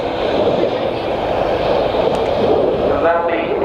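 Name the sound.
Sukhoi Su-22 jet aircraft performing combat turns at air show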